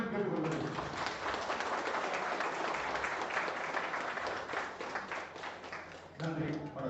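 Audience applause at a meeting of a former armed forces veterans' committee, sustained crowd clapping heard from a distance at fairly low level for several seconds, with quieter sounds at the start and end.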